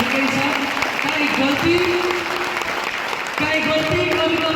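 Audience applause filling a hall at a network marketing talk, continuous clapping with a voice audible over it, steady and fairly loud.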